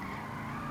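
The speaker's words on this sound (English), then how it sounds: "It drifts really well." Tyres of a Vapid Blade muscle car skid through a drift in GTA 5, a brief steady screech under low engine noise, fairly faint and with no talking.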